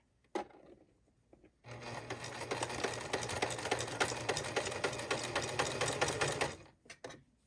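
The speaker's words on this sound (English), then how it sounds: "You just run it along here and you are sewing perfectly 1 inch the whole way." A sewing machine runs steadily for about five seconds as it stitches a 1-inch seam on a wrap dress, a dense rapid mechanical chatter that starts after a brief knock and stops abruptly.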